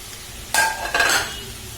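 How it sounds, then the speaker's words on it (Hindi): Chopped tomatoes and two finely cut capsicums hit a hot pan and fry, two bursts of close sizzling and stirring scrapes over a low kitchen hiss, made while preparing a cheesy chicken pasta bake. "और 1 मिनट तक इसे फ्राई कीजिए।"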